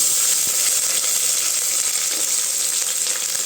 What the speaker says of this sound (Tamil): எண்ணெய் சூடானது பட்டை கிராம்பு சேர்த்துக்கலாங்க அடுத்து கருவேப்பிலை சேர்த்துக்கலாம் வெங்காயம் சேர்த்துக்கலாம்